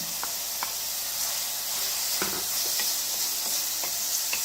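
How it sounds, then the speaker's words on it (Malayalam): Sliced onions for dragon chicken, cooked with green chillies in a pan, sizzle with a steady bright hiss while a utensil stirs them, giving intermittent scraping clicks close by, with no talk. "ഇതിന് നന്നായി ഒന്ന് ഇളക്കി കുറച്ചൊന്ന് വഴറ്റിയെടുക്കാം"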